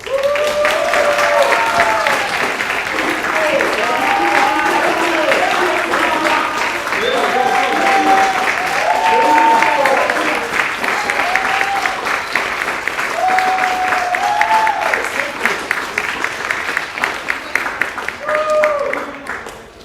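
Applause for the Lead Team at a senior gala, a loud, sustained round of clapping from a large audience lasting about twenty seconds, with a speaker's voice talking over the clapping throughout.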